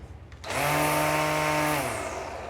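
A battery-powered string trimmer spins up sharply and runs with a loud, steady motor whine and buzz, alone without talk.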